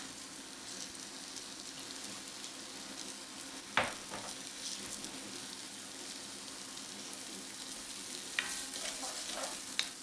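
Chopped onion sautés in a pan with salt and pepper, a soft, even sizzle broken by a sharp utensil knock and a few stirring scrapes, fairly quiet and without talk.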